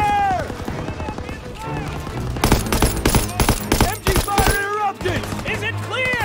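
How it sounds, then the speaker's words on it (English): Dense bursts of rapid machine-gun fire in the World War II video game Call of Duty WWII, loud and close, with shouted voices speaking over and between the volleys. "You gotta suppress the machine gun!"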